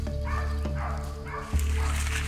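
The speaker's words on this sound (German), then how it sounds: "Kurze Zeit später gibt der Hund Standlaut" A terrier bays at a cornered Cape buffalo bull during a hunt in dense Mozambique bush as dusk falls, giving sustained, tonal barking cries under a steady low background rumble.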